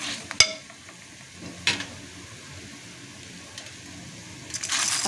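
Rice is tipped into a pan of browning rice for a zucchini and meat dish, giving a sharp clatter and quick scraping stirs over a soft, continuous sizzle, with a louder burst of frying at the end.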